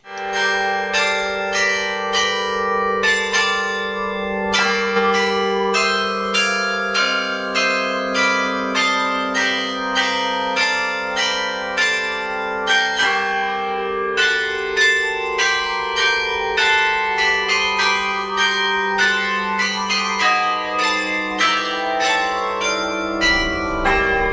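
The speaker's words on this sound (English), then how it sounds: "the room with all the bells in it when they start to play" Church bells in a Porto bell tower ring out a continuous melodic peal, many bell strikes in a steady rhythm over a sustained low hum, loud and close with no voices.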